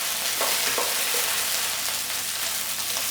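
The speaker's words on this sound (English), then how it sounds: "So all we do is stir fry nice and gently" Aubergine stir-fries gently in oil for a brinjal bhaji curry, giving a loud, dense, continuous sizzle close up, with a few faint stirring knocks and no voices.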